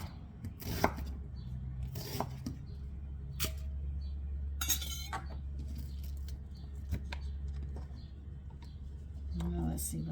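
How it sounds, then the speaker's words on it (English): Vegetables are chopped with a knife on a board in a kitchen, scattered sharp taps and thuds in irregular bursts against a low hum, with someone talking intermittently. "So just chop it."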